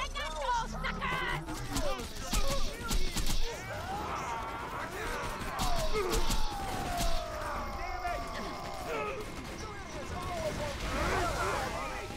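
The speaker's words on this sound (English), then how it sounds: "Explosions! Explosions!" Loud, dense combat in Borderlands 2: sharp bursts of gunfire and crashing explosions pile up, with rising electronic tones and a voice speaking over the chaos.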